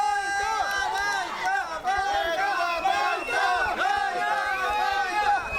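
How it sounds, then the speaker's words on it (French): An angry crowd in Tel Aviv confronts a group of African migrants, many voices shouting and jeering over one another in a loud, agitated street clamor that swells and surges. "Soudain, un groupe de migrants est pris à partie par la foule."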